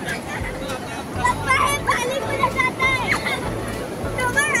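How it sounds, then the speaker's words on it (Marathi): A busy crowd's babble and chatter on a beach carries over a steady wash of sea noise with big waves, with a voice talking close by. "गर्दी आहे समुद्र किनाऱ्यावर"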